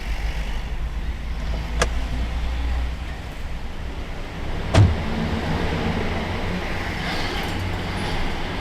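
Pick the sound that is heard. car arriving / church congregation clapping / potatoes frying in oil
car arriving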